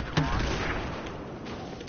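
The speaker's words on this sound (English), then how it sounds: "It's popping around shooting people with that grenade launcher." Grenade launcher fire in Battlefield 4: a sharp, loud report near the start followed by a dense wash of distant in-game gunfire and booms rumbling on for the rest of the clip.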